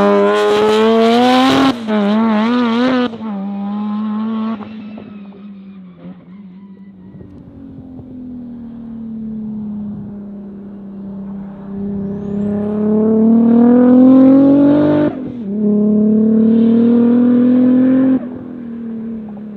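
A solid, planted turbo car on a race track, its engine rising and falling through gear changes as it accelerates hard, loud and close, with brief tire noise and no talking.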